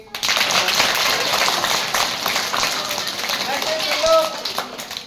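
At a school magic show, an audience claps in a dense, sustained patter for several seconds while voices talk over it.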